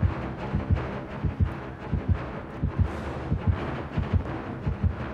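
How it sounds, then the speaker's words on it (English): Dead by Daylight heartbeat pulsing steadily in thumping pairs, fairly loud over a low ambient wind-like hum with no talk. "I hear my heart beating and I hid in the snowman."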